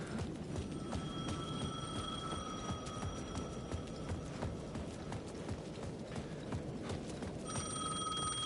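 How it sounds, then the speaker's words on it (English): A plaza payphone in Alan Wake 2 trills in two sustained electronic rings, one early and one near the end, set against a constant hiss of rain and muffled ambient noise. "The payphone at the edge of the plaza was ringing again."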